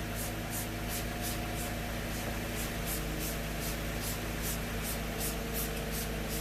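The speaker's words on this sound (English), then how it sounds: "that's all sprayed down. You see how many sprays I used?" Repeated trigger sprays of cheap cleaner onto a car engine, a steady run of short hissing bursts in quick rhythm over a constant low hum, fairly close with no talking.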